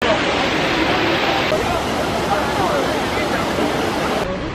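Steady broadband rush of the Trevi Fountain's water splashing in Rome, continuous and fairly loud, with a crowd's murmur blended underneath throughout.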